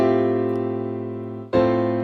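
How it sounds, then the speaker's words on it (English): A piano plays a sustained chord in a song arrangement, rich and ringing, then a new chord is struck about one and a half seconds in, with no voices over it. "And we have the piano that sounds like this."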